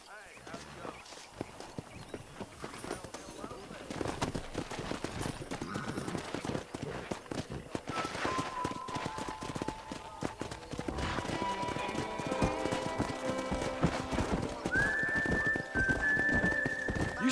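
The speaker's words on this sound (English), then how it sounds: "there's a pack of wild horses nearby" Wild horses gallop in the video game Red Dead Redemption, rapid clip-clopping hooves building over the clip with whinnies and neighs rising near the end, mixed with in-game voices.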